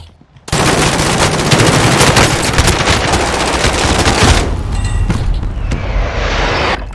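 Heavy, continuous barrage from an enemy precision airstrike in Call of Duty: Warzone, dense overlapping blasts and rapid fire pounding for several seconds at close range, then fading into a thinner tail.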